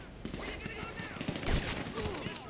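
Gunfire at a police sniper team on a rooftop in Grand Theft Auto V, heard as a quick scatter of shots at moderate volume under a voice speaking throughout.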